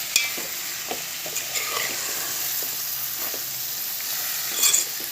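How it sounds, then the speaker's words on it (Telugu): Tomatoes fry with a close, steady sizzle as they are stirred into a dried prawn curry. Scattered scrapes and taps of a spoon against the pan break the sizzle, and nobody speaks. "టమాటాలు వేసేద్దాం."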